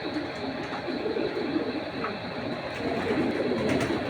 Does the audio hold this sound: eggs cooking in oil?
no